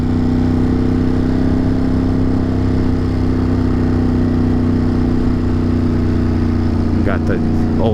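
An old Ducati motorcycle engine runs at idle, a loud, close, steady low rumble that holds throughout.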